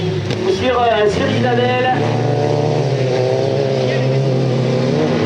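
Rally car at the Salvagnac rally-cross round braking late into the final corner then accelerating away, engine note dropping and climbing loudly and near, heard under a French commentator talking throughout.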